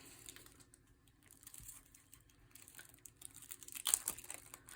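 Thin plastic wrapping on a Tarot of the Owls card deck crinkles and tears in quiet, irregular bursts, with a sharper crackle near the end.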